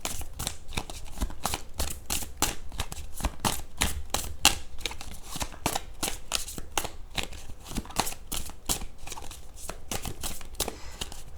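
Tarot cards shuffled briskly by hand, a dense run of crisp riffling slaps and flutters in steady rapid rhythm, close and continuous with no talking.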